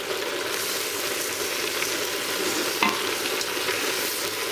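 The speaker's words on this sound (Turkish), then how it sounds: "etimizi karıştırıyoruz. Bir müddet daha soğanla beraber etimizi kavuracağız" Meat with onion, spices and tomato paste is stirred in a hot pan, giving a continuous close sizzle and fry with scraping stir sounds.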